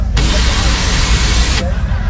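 A sharp, steady nitrous purge spray hiss at LS Fest starts abruptly, holds for about a second and a half, then cuts off, over a low rumbling background.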